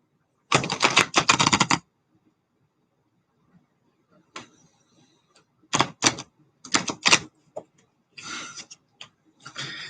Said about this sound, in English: These cards are so new.